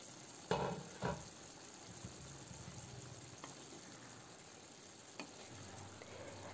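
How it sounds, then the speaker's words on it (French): Food with a splash of water simmers gently under a lid in a pan on low heat, a faint steady bubbling hiss with a couple of soft knocks from the lid or a utensil, quiet and close. "je baisse le feu, je mets le couvercle et je laisse le tout cuire"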